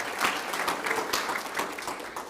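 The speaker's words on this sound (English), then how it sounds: "Round of applause for Mark Manuel." An audience at a LinkedIn sales training event applauds with dense, lively clapping from many people that swells and then gradually thins out.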